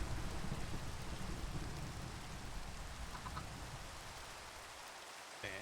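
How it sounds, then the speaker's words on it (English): Steady rain hisses evenly in a modded Minecraft world, with soft scattered drops and no clear thunder, fading slightly toward the end. "I was just gonna ignore the rain, but when we get the lightning"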